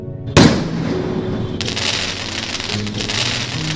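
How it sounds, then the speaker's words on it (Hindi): A sharp bang sets off a steady crackling burst of Diwali firecrackers in a cartoon, loud and close, continuing without pause over a noisy background. "अगले दिन दिवाली को चुड़ैल खूब पटाखे जलाती है।"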